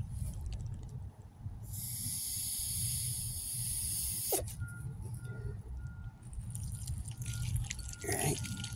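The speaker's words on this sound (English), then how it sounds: "when the water flows over the edge of the bucket, it creates a vacuum, and then it pulls more water" Water siphons through a hose and spills over the rim of a bucket used to cool chickens on a hot day, giving a gurgling, hissing flow with sucking hiccups and drips, close by and without speech.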